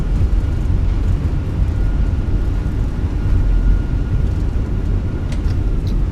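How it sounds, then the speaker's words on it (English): Thrust reversers on a Fenix A321 during landing rollout in Microsoft Flight Simulator make a loud, continuous low roar that holds steady throughout, with no speech over it. "Reversers are green."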